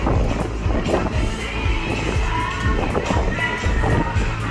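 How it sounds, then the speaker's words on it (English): Steady gusty wind buffets the microphone in a continuous low roar on Galveston's Pleasure Pier over the water, with faint crowd murmur and footsteps blending underneath. "It's windy out here"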